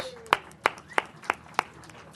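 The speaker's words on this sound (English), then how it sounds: "Let's give them a round of applause." A few scattered hand claps, about five sharp isolated claps spaced roughly evenly, at a city council meeting, with a faint tone and quiet room noise behind them.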